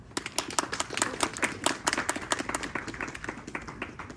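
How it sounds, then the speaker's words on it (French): Spectators at a charity Christmas market clap, a modest group with distinct, uneven handclaps close by, lasting a few seconds. "Donc on peut les applaudir."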